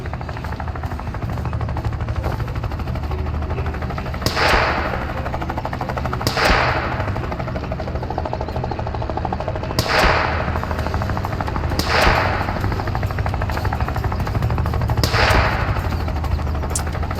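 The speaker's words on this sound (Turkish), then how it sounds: "Abi şu helikopterden kurtulmam lazım ya." A police helicopter chases overhead in the Thief Simulator 2 video game, its steady rotor thrum continuous with periodic loud bursts like shots or thumps every couple of seconds.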